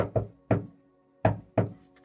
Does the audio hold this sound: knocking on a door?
yes